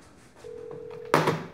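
In a girls' dormitory, a call to the management office goes unanswered: a single steady ringback tone holds for under a second, then a sharp, loud clatter abruptly cuts it off.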